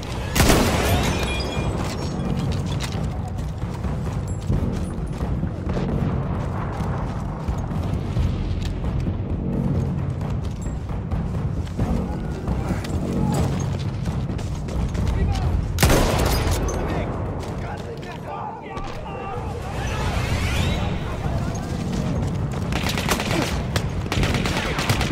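Battlefield 1 artillery shelling and gunfire rumble continuously across a war-torn front line, dense booms and rattling shots layered over each other with a brief lull partway through.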